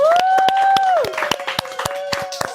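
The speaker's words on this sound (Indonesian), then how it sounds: "Kasih dong tepuk tangannya." A short burst of scattered clapping and a cheer from a small group at a podcast recording, with a voice calling out over the first second before separate sharp claps continue.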